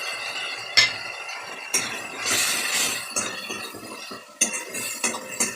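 Salt, sugar, coriander, cumin, chilli and turmeric powders fried in oil in a pan for a potato dish, a spoon scraping and knocking against metal in irregular strokes over a steady sizzling hiss.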